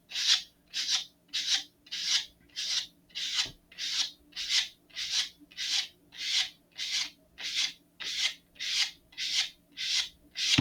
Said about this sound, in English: I'm just going to roll the sanding block over the edge